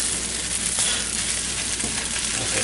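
Chicken fried rice stirred in a hot pan, with a loud, constant sizzle and a gritty scraping texture from the mixing, close up and with no one talking.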